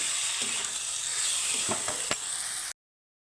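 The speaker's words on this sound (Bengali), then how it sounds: "এখন মশলার সাথে আমি সুন্দর করে একটু সামান্য মোটামুটি দশ মিনিটের মতো কষিয়ে নেব" Spices with potatoes and capsicum sautéed in a pan, a steady sizzle with a few clicking spatula scrapes near the end before the sound cuts to silence.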